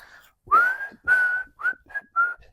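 A person whistles a short tune in clear, bright notes, several phrases with brief pauses between them, close and alone.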